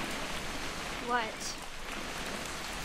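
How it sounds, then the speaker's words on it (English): Steady rain in the narrative game What Remains of Edith Finch, a continuous hiss of rainfall running under the whole stretch, with a single short spoken word over it. "It's gonna rain the whole weekend, isn't it?"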